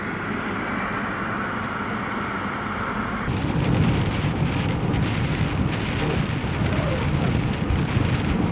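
Heavy rain and gusting wind pound on a parked SUV during a storm, a dense, steady drumming on the roof that grows noticeably louder and harsher after a few seconds, with no voices.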